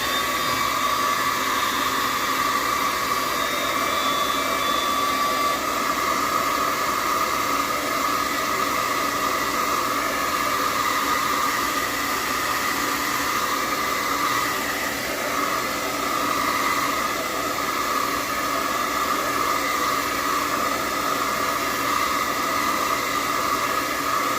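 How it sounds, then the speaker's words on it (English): A hair dryer blows steadily and loudly for the whole stretch, a constant whooshing roar with a high motor whine and no talking. "I'm going to use my hair dryer real quick, so excuse the noise."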